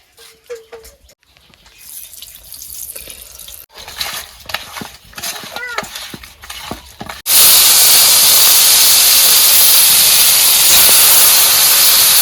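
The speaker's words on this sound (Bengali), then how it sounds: "মাছ ভাজা বসাই দিচ্ছি।" Fish fries in a pan in a home kitchen: after quiet clinks and rustles, a loud, steady sizzling hiss bursts in and holds at full strength to the end.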